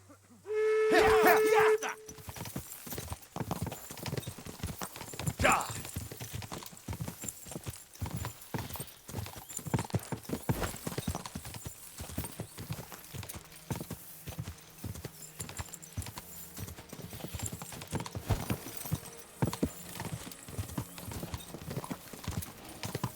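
Horses galloping in a race in Kingdom Come: Deliverance II, a steady fast clip-clop of hooves running through the whole stretch, loud and close, with a brief whinny near the start.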